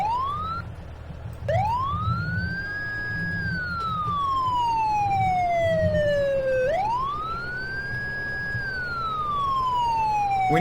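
A fire truck siren from Ladder 1 responding in Farming Simulator wails in long rising and falling sweeps, loud and close, over a low engine rumble.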